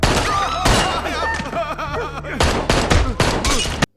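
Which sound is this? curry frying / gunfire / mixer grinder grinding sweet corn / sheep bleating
gunfire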